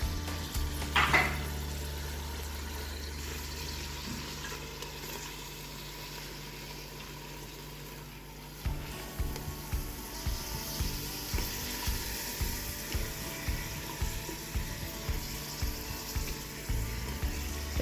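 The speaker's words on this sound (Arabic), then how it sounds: "نضربو شويه بصل برك ملي قطعناه مع كميه الثوم هذيك باش يتقلى فيها اللحم ديالنا" Chopped onion and garlic fry in oil ahead of beef, a steady sizzle that later picks up a regular beat of spoon strokes scraping the pan.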